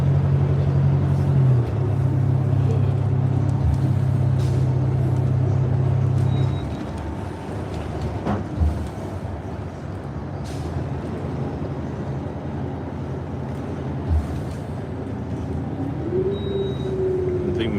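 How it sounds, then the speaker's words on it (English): A 2023 New Flyer Excelsior XTE40 transit bus runs with a steady low rumble and hum, a loud constant drone easing after a few seconds, then a rising electric whine near the end, with faint high beeps. "this is a 2023 Excelsior XTE40 built by New Flyer"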